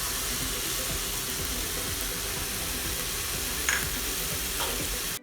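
Okra (ladyfinger) sizzles and fries steadily in a pan with turmeric, a dense continuous hiss with soft scraping stirs, close and loud with no talking.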